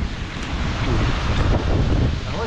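Strong typhoon wind roars steadily and loudly across the microphone on a coastal walk in Kamakura, Japan, with heavy buffeting and surf-like rumble throughout and no talk.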